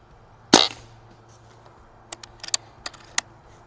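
A .22 caliber Barra 1100z PCP air rifle fires one sharp, loud shot in a backyard, followed by several quieter clicks and pellet impacts spread over the next seconds.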